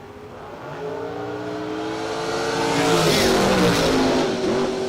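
Drag race cars, a Dodge Dart and a Camaro roadster, rev hard at the strip, the engine note climbing steadily into a loud, close roar that swells toward the end.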